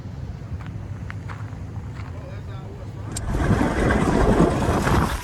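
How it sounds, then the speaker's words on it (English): Low motorboat engines rumble under gusty wind at a river launch on the St. Johns River at Palatka, then a louder wash of water and engine noise rises partway through, with muffled voices in the background. "Bunch of boats."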